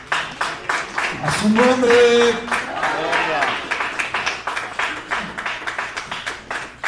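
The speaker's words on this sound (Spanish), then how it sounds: "Denle un aplauso al Señor bien fuerte, hermanos." Church congregation claps loudly and steadily for several seconds, a dense wash of applause with a voice speaking and calling out over it.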